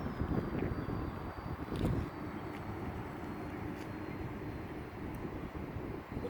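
An E-flite AT-6 1.5m model airplane flies a go-around in gusty wind, its steady broadband drone holding at moderate distance throughout, with wind buffeting on the microphone and a brief louder swell near the two-second mark.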